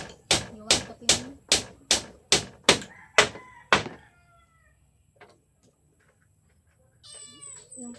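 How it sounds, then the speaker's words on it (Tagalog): A cat meows loudly and repeatedly, about nine sharp calls in a quick steady rhythm close by, then falls quiet before a brief higher squeal near the end. "Yung pusa ko guys, oh."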